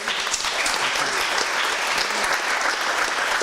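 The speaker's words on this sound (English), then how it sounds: "Let's give them a round of applause." An audience applauds a panel at a Sunday forum, a dense, loud and continuous burst of clapping that fills the short moment.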